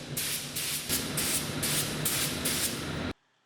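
Bursts of pressurized spray from a spray gun painting motorcycle wheels hiss in a rapid series of passes, fairly close and loud, then stop abruptly into near silence.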